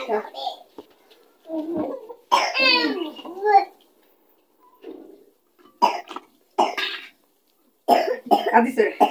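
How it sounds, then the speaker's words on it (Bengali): A child coughs in several short bursts, mixed with bits of talking and pauses between. "কাশি উঠে গেছে"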